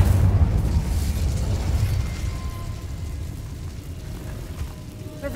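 An Incendio fire spell in Hogwarts Legacy bursts with a loud, low whooshing roar that rumbles heavily for about two seconds, then fades into quieter crackling ambience.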